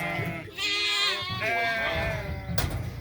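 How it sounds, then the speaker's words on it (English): Adult ewes and lambs in a pen bleat close by in long wavering calls, one overlapping another, with a lower background rumble. "letting the adult ewes come back into this pen"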